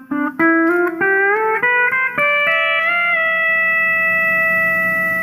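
Twangy sustained pedal steel guitar notes step upward through a major scale one after another, sliding slightly between pitches as the B pedal engages, then ring out together as a held chord with a smooth, steady tone.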